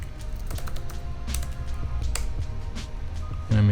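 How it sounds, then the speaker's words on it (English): Typing on a computer keyboard, close and clear: a fast run of crisp key clicks, with a sharper thud just before the end. "So if I just type something in here"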